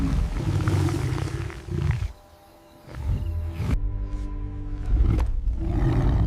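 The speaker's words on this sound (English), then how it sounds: "That roar, he recognized it instantly." A lioness gives deep, loud roars in a series of heavy bursts with a short quiet gap between them, close and rumbling, with no talking.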